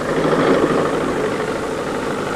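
Engine of a tractor-mounted soil thrower for fighting forest ground fires, driven through the power take-off shaft: a steady, loud, low droning run with even vibration and no pauses.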